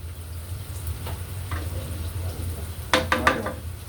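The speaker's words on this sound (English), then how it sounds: "you never want to leave your sauteing vegetables untended for too long" Vegetables sautéing in a pan for a creamy soup with chicken, onion and mushroom give a faint, steady sizzle over a low kitchen hum, then a few sharp utensil clatters near the end.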